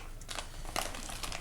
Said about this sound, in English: let me open this. It's a Ziploc bag, which is nice